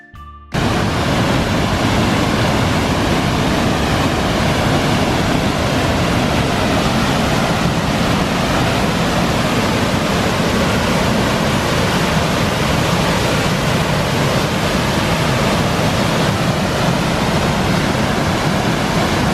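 Twisted Falls, a waterfall on the Eagle Creek trail, roars as a loud, steady broadband rush of falling water that stays constant and close throughout, with no voices.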